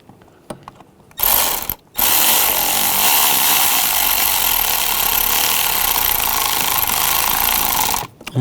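Ratchet wrench clicking steadily while tightening coil hold-downs on the valve cover of a 2006-2010 BMW 550i 4.8L V8, a loud continuous close-up ratcheting run of about six seconds after a couple of brief bursts.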